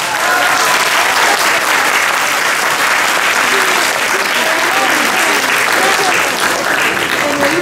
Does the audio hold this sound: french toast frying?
no